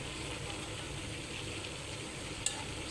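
Chinese vegetables with chicken stir-frying in a pan: a continuous, moderately quiet sizzle with faint scraping and one small clink near the end.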